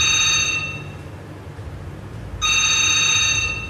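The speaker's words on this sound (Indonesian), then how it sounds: "tiba-tiba telepon berdering beberapa kali sehingga menyebabkan karyawan itu terbangun" Telephone ringing in an office at night, two loud bursts of a bright electronic ring separated by a pause of about two seconds, over a low steady hum with no voices.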